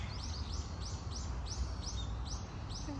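Small birds in Japan chirp in a rapid run of repeated high, sweeping notes at moderate distance, heard over a steady wash of background noise from rain and wind.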